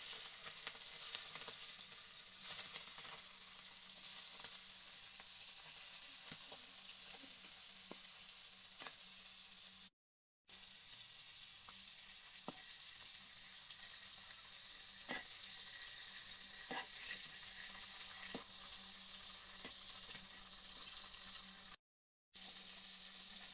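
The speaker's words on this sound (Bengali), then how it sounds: "তেলটা গরম হয়ে গেছে, এখন আমি চিংড়ি মাছটা ছেড়ে দিচ্ছি।" Shrimp fry in hot oil with a continuous, even sizzle and scattered small pops, close and moderately loud, briefly cutting out twice.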